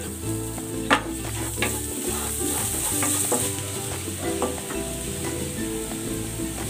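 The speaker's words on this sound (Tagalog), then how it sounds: "Magigisa na ako ng bawang." Garlic being sautéed for a pork belly dish crackles and sizzles loudly in a pan, with a constant low hum behind it and several sharp utensil knocks and scrapes from stirring, close and continuous.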